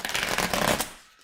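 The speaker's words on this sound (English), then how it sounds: "Let me just shuffle the deck." Quick riffle of a tarot deck being shuffled: a fluttering rapid series of papery snaps lasting under a second, close and fairly loud, trailing off into quiet.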